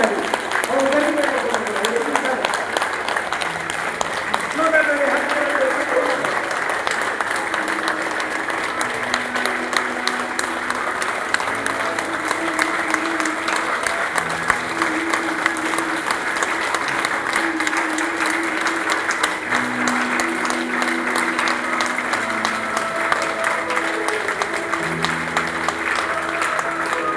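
A large audience at a Jagannath katha religious discourse applauds loudly and continuously, a dense, even wash of clapping with some voices underneath.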